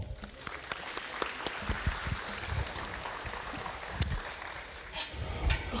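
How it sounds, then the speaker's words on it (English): Audience at an Angus cattle sale in Clemson, South Carolina, claps steadily for several seconds, a dense patter of many hands in an indoor sale venue, moderately loud. "give Lee a round of applause"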